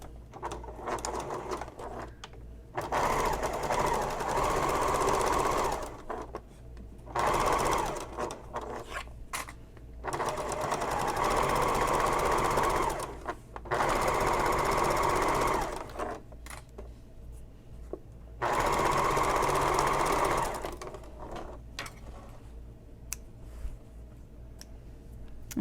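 Sewing machine stitching a 3/4 inch seam on a Mercury messenger bag, heard as close, steady mechanical whirring in five bursts of a few seconds each, separated by short pauses and faint handling sounds.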